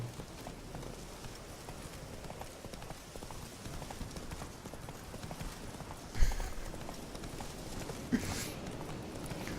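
Roach the horse gallops in Witcher 3, a steady, rapid clip-clop of hooves over a windy outdoor backdrop, with a couple of brief louder thumps along the way.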